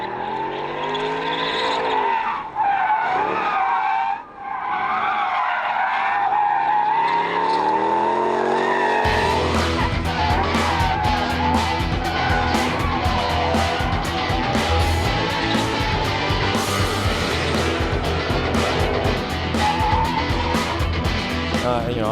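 A race car sliding through controlled drifts on a track, driven hard enough to wear out its tires, with tire squeal and a revving engine loud throughout, rising in intensity about halfway through.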